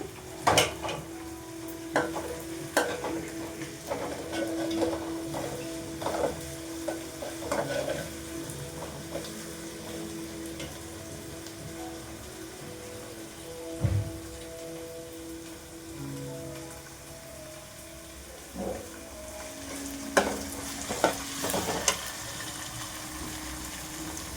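Onions sautéing in a pan with ginger garlic paste: a continuous close sizzle dotted with frequent light clicks and scrapes of stirring, and no voices.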